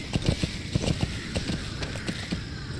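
Horse hooves clop in Metal Gear Solid V, a quick run of close, rhythmic thuds at a trotting pace over a faint steady background.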